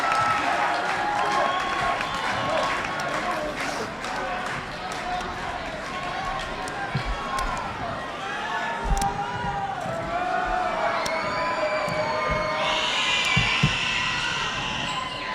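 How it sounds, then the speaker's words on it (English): Crowd at a school basketball game rising in applause and cheers for a standing ovation, sustained clapping and shouts under an announcer's voice, with squeaking sneakers and a bouncing ball. "as Yoni gets a standing ovation from the crowd."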